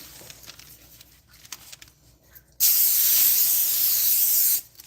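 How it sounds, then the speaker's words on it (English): Cooking spray hisses in one steady, loud burst of about two seconds onto parchment paper while making keto hot pockets in a kitchen, after quieter handling noises. "the reason why you're spraying the parchment paper, guys, is so the dough don't stick to it"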